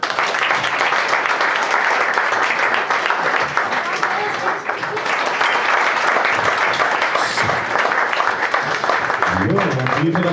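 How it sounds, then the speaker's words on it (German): Audience applausing a small German brass-and-folk band at a lakeside show, a dense steady patter of clapping that fills the whole stretch and ends with a few voices speaking. "Nochmal, glaube ich, auch einen Applaus unserer Musik."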